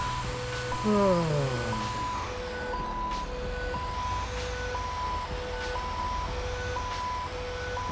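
A Queensland Fire and Rescue truck engine in GTA 5 rumbles steadily beneath repeating electronic beeps and tones, with a brief exclamation near the start.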